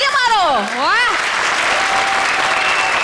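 Studio audience applause on a Hindi comedy show, a burst of crowd clapping that swells after a man's enthusiastic exclamation and carries on steadily, fairly loud and close.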